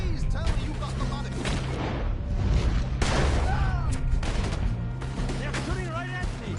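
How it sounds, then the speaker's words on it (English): Gunfire from several shooters in Red Dead Redemption 2 during a yacht robbery, with repeated shots over a dense, loud game mix and voices speaking throughout. "They're shooting right at me!"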